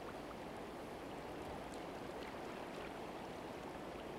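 Fast-flowing river water at a fishing spot, rushing and hissing in a steady broadband wash with no breaks, fairly faint and continuous throughout.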